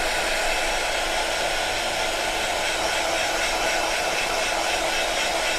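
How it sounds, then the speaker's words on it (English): A heat gun blows steadily over embossing powder on a card, producing a loud, continuous whooshing hum with no breaks and no talking. "I'm just going to heat emboss this first because obviously your gemstones won't stick."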